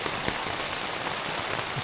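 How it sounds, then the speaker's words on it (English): Heavy rain pours steadily onto a tent pitched by a high mountain lake in Utah, a dense continuous hiss of drops drumming on the fabric close overhead, with no voices. "It's pouring rain."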